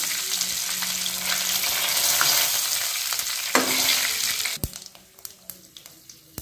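Spices such as garam masala, bay leaf and red chilli sizzle and fry in oil in a pan for a banda (yam) curry, a steady hiss with stirring scrapes and clinks that thin out toward the end.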